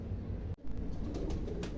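Pigeons cooing softly in a loft, a low steady murmur of several birds throughout with a brief dip partway and a few faint rustles, no voices.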